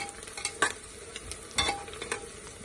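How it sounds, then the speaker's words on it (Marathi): Onion and green chillies fry together in a pan, a continuous sizzle punctuated by sharp clinks and scrapes of a spatula stirring against the metal. "सगळं मिक्स करून चांगलं भाजायचं म्हणजे मिरच्याही भाजल्या जातात।"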